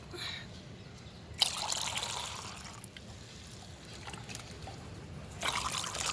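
Water is poured into rice beer fertilizer to dilute it, giving two splashy trickling bursts, one at the start and one near the end, with quieter dribbling in between.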